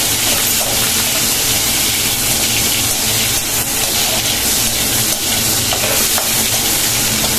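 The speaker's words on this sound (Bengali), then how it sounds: "এরকমভাবে উল্টে পাল্টে মাছগুলো ভেজে নিলাম" Prawns frying in oil for biryani, turned over and over in the pan, give a loud, steady sizzle with crackling pops and stirring scrapes throughout, with no talking.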